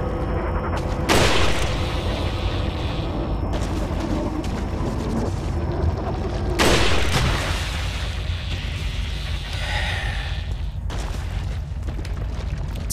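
Two heavy, booming gunshots in Resident Evil 4 roll out several seconds apart, each a loud blast with a long rumbling decay over a dense, noisy game soundscape.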